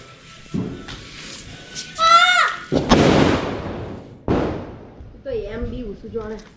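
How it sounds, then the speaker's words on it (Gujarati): Sharp loud mirchi bomb firecracker bangs, two or three in a row with decaying rumble, interspersed with excited children's voices shouting nearby during Dev Diwali. "ગાઈસ તો મિર્ચી બોમ્બ છે"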